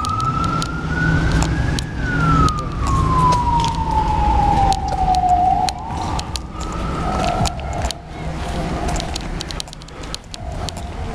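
A second fire engine passes on a city street, its siren rising then falling in a long slow wail and fading into shorter tones, loud and fairly near over continuous road noise.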